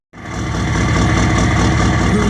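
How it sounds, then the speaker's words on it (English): Chevrolet K3500 pickup with a 6.5 turbo diesel idling close by, a steady loud low rumble with a fine, rapid clatter that holds even throughout once it starts. "just listen to that majestic idle"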